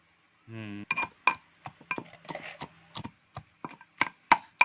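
Raw mango, seasoned with cumin, salt and black salt, is crushed for a sweet-sour chutney. A brief voiced sound comes first, then a run of sharp, irregular knocks and crunches, close and clear.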